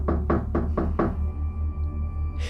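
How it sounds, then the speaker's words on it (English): Hard knocking on a door, five loud, evenly spaced bangs close by, followed by a low steady hum with no further knocks. "the banging started again"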